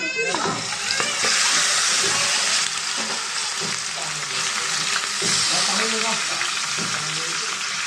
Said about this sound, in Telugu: ఇదిగోండి చికెన్ ఫ్రై అవుతుంది కదండి